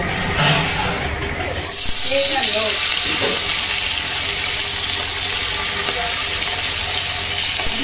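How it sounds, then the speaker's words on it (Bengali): Pieces of hilsa fish and a fish head fry in oil with a loud, continuous hiss and crackle, close up, plus faint scraping and bubbling; no one speaks. "মাছগুলো সব ভাজা হয়ে গেছে"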